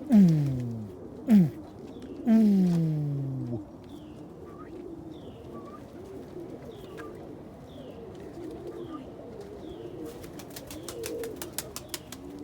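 Crested almond pigeons coo loudly and close, a few deep rolling calls near the start, followed by softer chirps and clicks.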